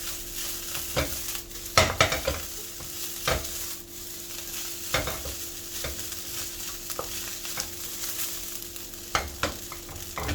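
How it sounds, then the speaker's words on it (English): Leftover egg fried rice with green onions being stir-fried in a pan, with a steady sizzle and repeated scraping, clanking strokes of the spatula throughout. "Add in the green onions. Give them a nice mix."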